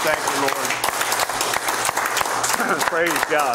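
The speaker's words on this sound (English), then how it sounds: "Give the Lord a big hand clap this morning" Church congregation clapping hands on a Sunday morning service, a loud continuous burst of applause throughout while a voice speaks over it.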